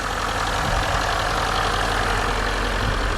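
A Land Rover L405 with a suspected boost problem idles steadily just after starting, a loud, close, continuous engine rumble with an even low throb and no talking.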